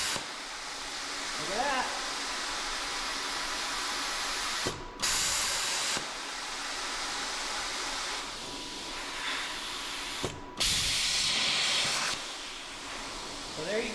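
A bestarc BTC500XP plasma cutter torch runs on compressed air, a loud steady hiss that twice cuts out abruptly and restarts, with a brief spoken remark.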